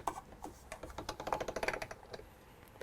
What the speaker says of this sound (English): you run it through at the thickest setting of your pasta machine, like this